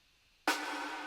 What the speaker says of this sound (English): We have a snare sample,